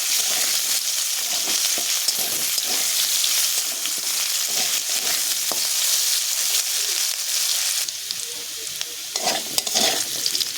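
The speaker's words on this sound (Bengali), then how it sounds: "আলুটা আমি লাল লাল করে ভেজে নেব।" Potato pieces fry in oil while they are stirred, in a home kitchen making a prawn and melon curry. Loud, continuous sizzling runs throughout, with scraping stirs and occasional crackling bursts and no voices.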